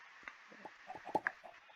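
Short clucks from chickens in a Minecraft modpack, scattered soft pecking calls over a faint hum, with a couple of brighter, louder clucks near the middle.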